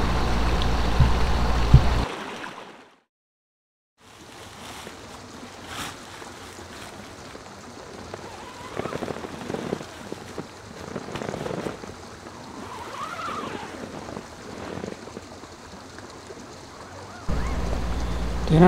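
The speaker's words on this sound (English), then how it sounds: "I eventually fell asleep to the sound of the babbling brook" Steady broadband water rush of a babbling brook at night in Yosemite's backcountry near Aspen Valley, a continuous close flow with a brief silent gap early on and no talk.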